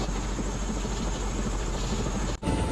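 Helicopter flight over Réunion Island, a volcanic island in the western Indian Ocean, heard from inside the cabin as a loud, steady rotor and engine drone, close and continuous, with a brief dip near the end.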